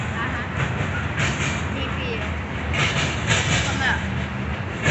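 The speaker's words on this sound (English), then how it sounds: "Pretty short train already, huh?" A short Norfolk Southern freight train rolls past a railfan tower at Ludlow, a steady rumble of wagons with faint clickety-clack under people chatting nearby.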